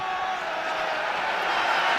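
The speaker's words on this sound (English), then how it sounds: "The crowd just getting behind us" A stadium crowd at a Six Nations rugby match between Ireland and Scotland roars in a steady, dense wash of cheering, with a commentator's voice faintly under it.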